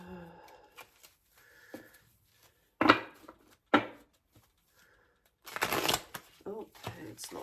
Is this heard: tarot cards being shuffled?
yes